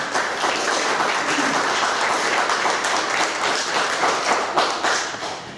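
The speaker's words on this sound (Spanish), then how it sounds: "Nuevamente, aplausos para Richard Caccione." An audience at a round-table tribute applauds a speaker, a sustained, even roll of clapping from a roomful of people with no voices over it.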